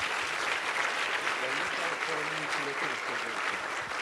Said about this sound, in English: please give a round of applause to those honorable panelists